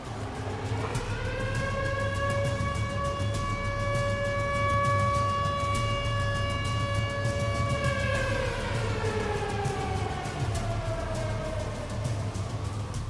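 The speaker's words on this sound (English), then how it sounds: "The sirens start going off again for the second time" Tornado warning sirens in Joplin wail continuously and loudly for the whole stretch, holding a steady tone and then sliding down in pitch near the end over a low rumble of wind and background noise.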